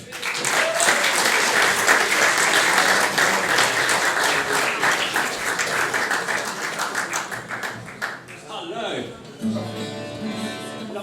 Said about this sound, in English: so please would you give a big hand for Si Baron